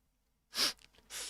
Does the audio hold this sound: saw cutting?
no